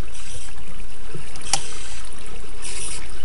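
Minecraft water running through a small gap, a constant nearby trickle and wash with a brief sharp click partway through, no voices.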